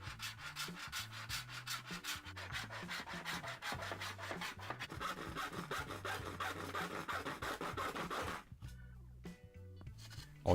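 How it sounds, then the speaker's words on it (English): A hacksaw cuts a scored shape from a panel while a jewellery box is restored, giving quick, even rasping strokes close up and loud, which stop briefly near the end. "I scored along those lines with a knife just to help to guide the hacksaw"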